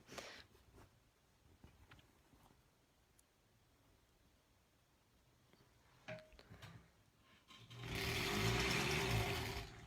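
Quiet handling and small clicks lead into a sewing machine stitching a granny squares quilt block, running loud and close for about two seconds near the end.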